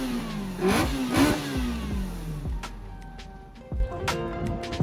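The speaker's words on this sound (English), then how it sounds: "when he revs it, you just hear the induction" Race car engine revving hard with audible induction roar at an outdoor cars-and-coffee meet, two sharp blips followed by a falling, settling note and further short revs, loud and close.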